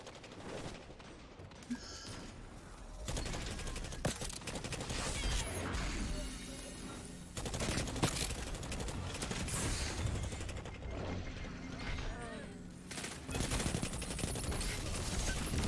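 Hand cannon gunfire in the video game Destiny 2 rings out as repeated sharp, loud game shots over a dense mechanical, clattering combat mix with no clear talk.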